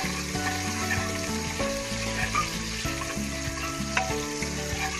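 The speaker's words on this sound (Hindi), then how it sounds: "अब इसमें हम सबसे पहले डालेंगे अनियंस, अब हम इसे गोल्डन ब्राउन करेंगे।" Onions sizzling and frying in hot oil for a chole masala, turned golden brown, a steady dense crackle with occasional stirring clinks and a faint background hum.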